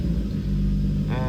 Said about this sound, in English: So I give it a rev, it goes up.